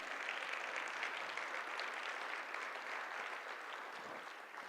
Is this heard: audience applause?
yes